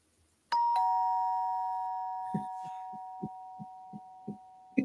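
A doorbell chime rings out clearly with a sustained bright tone that rings on, followed by a series of soft, evenly spaced low thumps.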